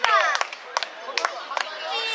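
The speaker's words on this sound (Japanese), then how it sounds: "はい、拍手。" Scattered outdoor clapping after a child climbs a tree, a few sharp claps spaced out amid talk and voices close by.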